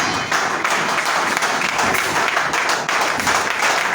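A church congregation claps and acclaims in praise, with dense, steady applause and cheering that fills the room continuously at full volume.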